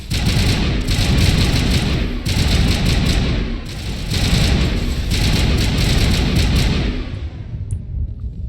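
Sustained gunfire in Mass Effect Legendary Edition: dense, loud volleys of rapid shots rattling in waves over several seconds, with booming impacts, before tapering off near the end.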